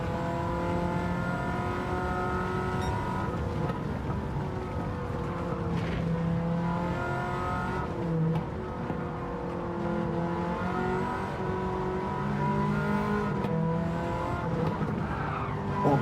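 1980s production cars race around the Goodwood circuit, their engines droning loudly and steadily with rising and falling revs and occasional tyre squeal, no voices over the pack.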